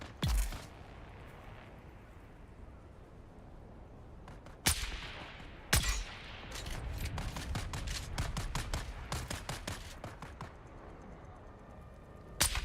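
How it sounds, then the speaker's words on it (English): Rapid sniper rifle fire in Dune: Awakening, a run of sharp cracks with a few louder isolated shots followed by a dense volley of closely spaced reports, loud and near with no talking. "I'm literally shooting through his body, bro. You can see the smoke through his body as I'm shooting him."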